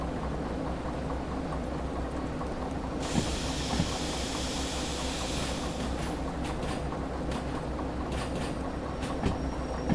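A DH4 locomotive in the Derail Valley train game slows to a stop on wet rails, giving a steady rumbling drone with a long hissing brake release partway through and a few faint clanks, with no one speaking.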